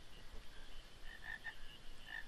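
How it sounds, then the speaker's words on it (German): Frogs croaking in Final Fantasy IX, a few short, faint calls scattered over a steady low ambient bed with no voices. "Ja, hier sind Frösche."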